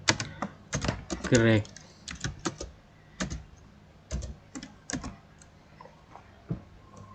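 Typing on a computer keyboard while working through SQL database queries, bursts of quick close clicks and key taps, loud at first then sparser, with someone speaking briefly over them.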